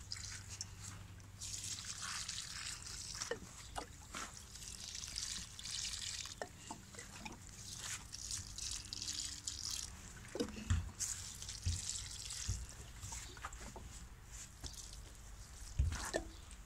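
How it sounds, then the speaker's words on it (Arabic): Water poured from a can onto newly planted flowers in a garden bed, a faint, close trickle and patter with scattered drips and splashes continuing throughout. "دابا كتعطيهم الماء حيت عاد تغرسوا في الاول"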